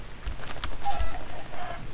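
Chickens in the video game Minecraft give a few soft, scattered clucks over a faint background hiss, with no talking.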